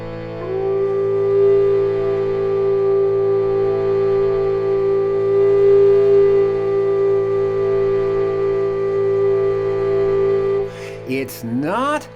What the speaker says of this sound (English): We're coming down one note from the top